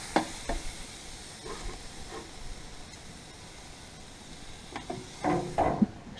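London broil steak sizzling on an RV grill after a flip: a steady soft hiss of frying runs throughout, broken by scattered scraping and handling noises near the start and a louder cluster of clatter toward the end.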